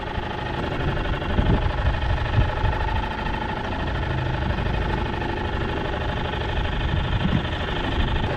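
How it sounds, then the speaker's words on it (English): A boat's engine idles steadily while the vessel drifts in rough seas off Half Moon Bay, a low continuous rumble with slight vibration and wind-like wash throughout. "I gotta keep the engine running just in case something happens"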